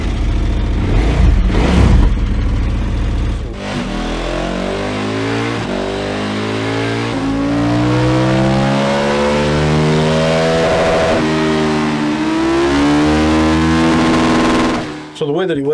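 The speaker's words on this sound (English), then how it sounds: "Start it back up, get it run up on the dyno" A KTM Super Adventure S motorcycle with a DNA air box revs hard on a dyno, engine note climbing and sweeping through rising harmonics for over ten seconds, loud and close, after a brief burst of speech at the start.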